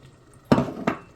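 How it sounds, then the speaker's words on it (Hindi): A cup of water poured into a pot of mutton curry, two quick splashy pours landing in the hot pot, close and fairly loud after a quiet kitchen lull. "सॉरी, ये 1 कप पानी का डाल दूँगी"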